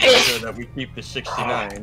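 A single sharp sneeze bursts out at the start, close and loud, followed at once by a person talking.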